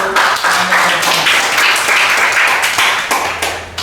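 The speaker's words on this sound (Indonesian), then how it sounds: "Kita berikan aplaus dulu untuk" An audience at a university teaching session claps in a dense, loud burst of applause that lasts a few seconds without pause, with a voice faintly underneath.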